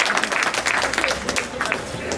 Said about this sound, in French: je peux encore applaudir Myriam et son équipe